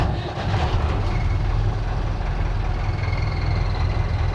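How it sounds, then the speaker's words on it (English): Engine of a restored wooden cruising boat running steadily at anchor, a continuous low rumbling drone with no talk over it. "start the engine."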